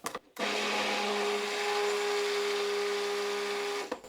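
A blender whirs steadily and loudly for close to four seconds as it mixes soap batter, with a constant motor hum that starts and stops abruptly and has no talk over it.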